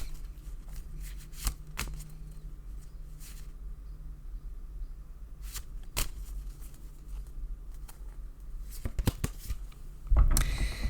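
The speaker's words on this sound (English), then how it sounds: "So let's deal once again with the Wildwood Tarot." Wildwood Tarot cards are shuffled and dealt, with repeated dry riffling snaps and soft flicks at close range, ending in a louder burst of shuffling.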